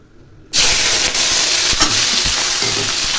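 Chopped onion, tomato and green chilies hit hot oil in a kadai with a sudden loud sizzle that keeps frying steadily and crackles close up, with no talking.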